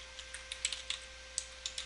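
Light typing on a computer keyboard, a sparse run of soft, quick key clicks in irregular bursts against a quiet room with a faint steady hum.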